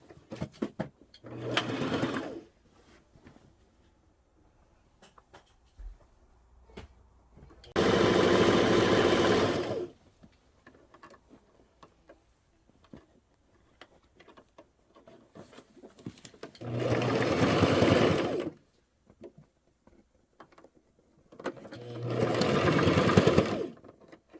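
A sewing machine stitches a seam on a fabric snuggle bed in bursts of steady whirring, three or four runs lasting a couple of seconds each, separated by quiet pauses with faint handling noises.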